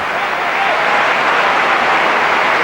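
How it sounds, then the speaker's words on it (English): Norwegian fans applaud at a 1998 World Cup qualifier football match against Switzerland, a broad, steady wash of stadium clapping and crowd noise, with speech in the mix. "Warm applause from the Norwegian fans."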